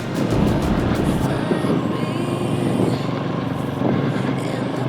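A Forte Cross 250 motorcycle engine drones steadily at low throttle while riding off-road through a ravine, a continuous close rumble with wind noise throughout and no clear talking.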